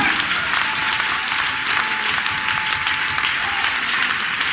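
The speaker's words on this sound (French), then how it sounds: "Acclamez Dieu fortement." A church congregation claps loudly and steadily, a dense, continuous burst of hand applause filling the room without pause.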